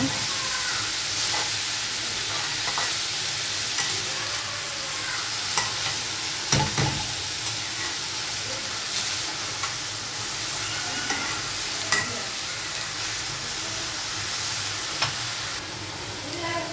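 Potato and egg bhaji sizzles steadily in a pan as it is stirred now and then, with scraping spatula knocks standing out over a constant broadband frying hiss.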